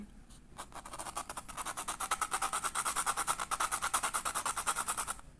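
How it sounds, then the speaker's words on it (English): A graphite pencil is rubbed back and forth on sandpaper to sharpen its point, a steady rapid rhythmic scratching that builds to a loud, regular stroke pattern and then stops abruptly. "and I use a sandpaper for that"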